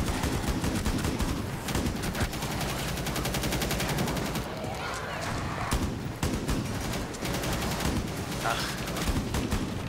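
Gunfire in the co-op zombie shooter Outbreak, Pandemic Mode: dense rapid automatic bursts and shots rattling almost continuously, loud and close, with brief lulls.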